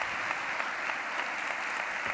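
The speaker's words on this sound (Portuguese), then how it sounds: "E vamos aplaudi-lo" An audience at a televised religious program applauds, a soft, uniform patter of many hands heard at a distance and held steady throughout the moment.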